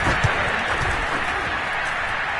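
A stadium crowd at a Chargers versus Ravens NFL football game roars and applauds after a touchdown, a dense, steady wall of distant cheering with a few sharper bursts near the start.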